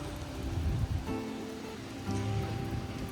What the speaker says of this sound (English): it gets even louder out here with the rain, with the cars passing by